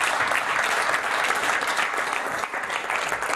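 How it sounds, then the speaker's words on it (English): A live studio audience at a UKIP political Q&A with Nigel Farage breaks into loud, dense applause for a question, a continuous crowd of clapping hands with a brief dip midway, then carrying on strongly. "The applause for your question is interesting"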